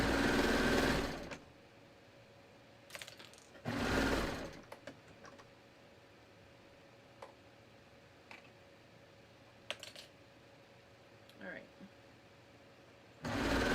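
A home sewing machine stitches a sleeve seam in short bursts, whirring loudly for a second or two at a time, with quiet pauses filled by small clicks and fabric handling, and a person talking in between.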